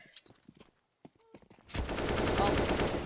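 AK rifle fire in a Counter-Strike match: after a second or so of brief, faint taps and clicks, a sustained loud burst of automatic gunfire fills the rest of the moment.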